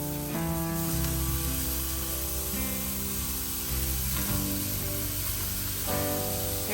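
A steak for grilled tacos sizzles loudly on a grill at about 400 degrees as it is flipped, a steady, close hiss and crackle that runs throughout with background music underneath.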